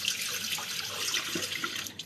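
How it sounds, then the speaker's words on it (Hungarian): Tap water runs steadily into a pot of stuffed cabbage, a continuous close splashing hiss with no talk. "Még engedek rá egy kis vizet."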